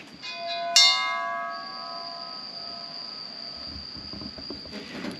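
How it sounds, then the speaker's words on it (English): Hanging steel roll cage tubes for a Chevelle build ring like a wind chime, a sharp metallic strike followed by a long clear sustained ringing tone that slowly decays. "they hang there, and just make the nicest wind chime sound"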